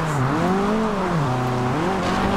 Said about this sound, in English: So let's try to do some skids here.